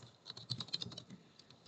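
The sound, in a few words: typing on a computer keyboard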